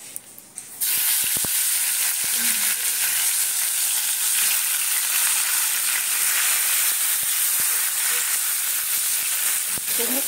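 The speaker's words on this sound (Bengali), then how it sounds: "এবারে এই তেলেই আমি কলা আর আলুটাকে ভেজে নেব।" Plantain and potato pieces fry in hot oil, a loud steady sizzle that bursts in after a brief quiet start and keeps a dense, even hiss throughout, with faint occasional clinks.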